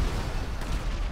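Explosions and gunfire-like blasts in the video game GTA Online, a dense, loud rumbling burst of booms filling the whole short stretch with no pause.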